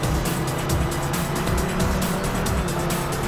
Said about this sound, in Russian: Вот это у него звук двигателя. Это гоночный.